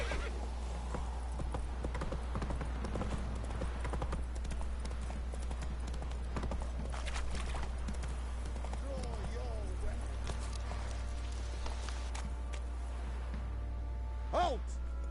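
Roach, a horse in The Witcher 3, trots along with steady clip-clop hoofbeats and a brief whinny, all layered under game music, ambient noise and talking voices.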